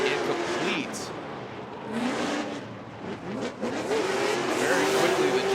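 Formula Drift car at the Irwindale banked track in knockout qualifying, its engine revving and wavering as it flicks into the bank and grips up, with a steady engine roar under continuous commentary.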